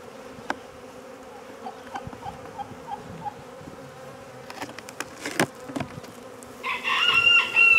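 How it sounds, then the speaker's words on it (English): Honeybees buzz in a very active hive, a steady low drone with scattered nearby wingbeats and soft knocks, growing into a louder, denser swarm near the end. "this is a very, very active hive"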